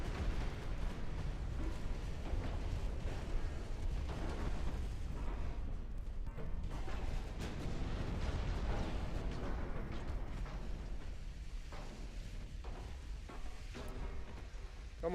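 Naval gunfire in the warship game Ultimate Admiral Dreadnoughts, a dense continuous rumble of heavy booms and blasts with sharper cracks toward the end, fairly faint and without speech.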